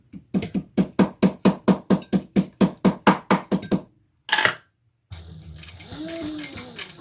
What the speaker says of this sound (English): Let me pound this end before I sew over it.